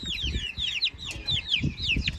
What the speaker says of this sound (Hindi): ये देखिए असली देसी मुर्गी के चूजे